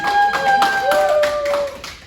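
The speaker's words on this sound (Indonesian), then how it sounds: "tepuk tangan" Scattered hand clapping from a small group at a micro teaching class, steady through the clip, with a sustained tonal whistle-like sound and faint voices mixed in.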